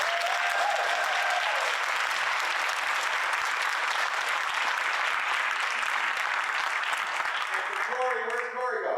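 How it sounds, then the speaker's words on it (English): An audience applauds performers loudly and steadily for several seconds, the clapping fading near the end as voices begin. "a big round of applause for all the performers"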